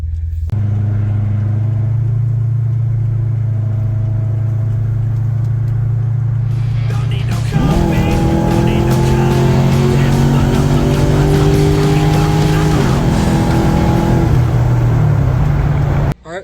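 A Pontiac G8 GT on a test drive after a carrier bearing replacement, heard from inside as a steady low engine drone that then swells into louder acceleration with rising revs and road noise.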